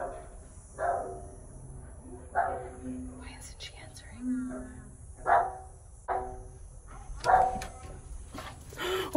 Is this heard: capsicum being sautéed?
no